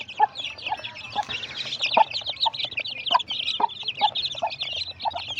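Chickens and a rooster cluck steadily in a farmyard, a dense flock of short, repeated calls with louder individual clucks popping out at regular intervals over continuous chatter.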